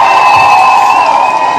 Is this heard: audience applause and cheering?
yes